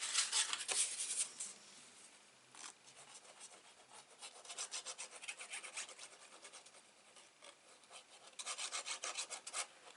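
Bone folder or fingertip rubbing and burnishing folded paper flat on a handmade vintage-style mini album, a close, dry rasping friction in repeated back-and-forth strokes and short bursts.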